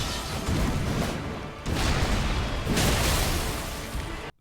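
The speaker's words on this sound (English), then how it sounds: "this Colossal that I'm using is level 1, so it doesn't really do that big of a bonk" A Colossal weapon's charged attack lands on Morgott in Elden Ring with heavy, booming crashes, two or three big impacts in a few seconds over a dense, loud roar of game sound.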